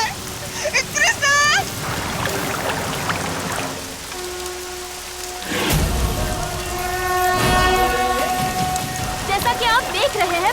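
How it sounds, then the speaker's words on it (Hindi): Heavy rain pouring steadily, with water noise filling the scene beneath overlapping voices and shouts that come and go. "बारिश बहुत हो रही है"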